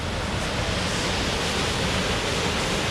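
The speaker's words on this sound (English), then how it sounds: "you can just see the waterfall" Steady, full roar of rushing water from a waterfall in a fern-lined rocky forest on Vancouver Island, loud and continuous with no break or voice.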